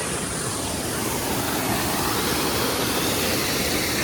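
Steady broadband rush of water flowing from Mormarewadi waterfall near Kamshet during the monsoon, a continuous dense roar with no break across the clip.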